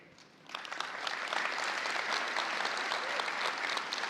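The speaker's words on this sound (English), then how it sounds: "It's an applause to the developers." A large audience at a developer conference breaks into sustained, even applause that rises quickly and holds steady for several seconds.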